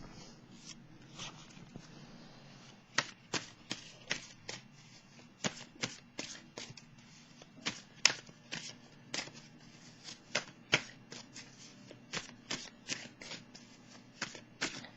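Tarot cards shuffled by hand in a quiet room, a steady run of crisp riffling snaps and flutters close up, a low hum beneath and no talking.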